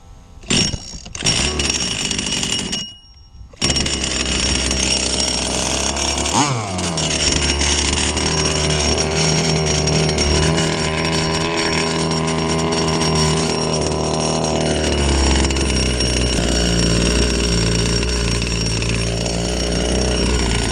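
A Proboat Rockstar RC boat's gas engine sputters briefly, cuts out, then starts and settles into a loud, steady, buzzing idle close by that runs without a break.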